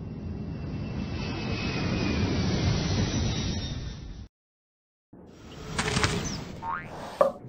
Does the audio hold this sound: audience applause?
no